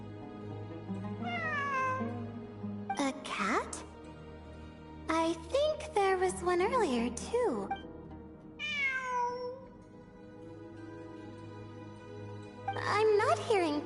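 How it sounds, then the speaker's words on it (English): A cat in the Genshin Impact game meows repeatedly in drawn-out, rising and falling calls over a low hum, alternating with a person talking. "It really is a cat."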